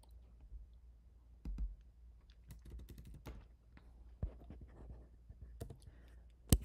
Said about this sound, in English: I'm just going to type in Merry Christmas.